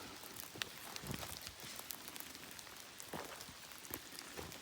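Rain falls steadily through a quiet natural setting on a short walk, a soft, faint patter of drops with scattered louder ticks and no voices.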